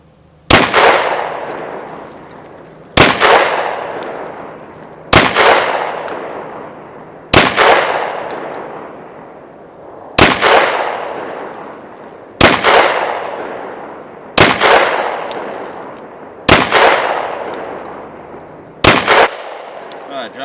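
A Glock Model 40 pistol fires 10mm SIG ammunition outdoors: nine loud, sharp shots spaced about two to three seconds apart, each ringing out and decaying before the next.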